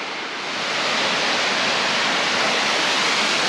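Crabtree Falls waterfall cascading down through trees, a steady, loud, broadband roar of rushing water that swells in the first half second and then holds constant with no voices.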